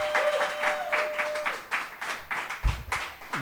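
A modest crowd at a literary reading series claps briefly, a loose patter of hands with a faint tone lingering underneath and a low thump near the end.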